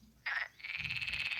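A frog croaks twice in close succession, a short rasping call followed by a longer sustained croak, loud and near with no other sounds around it.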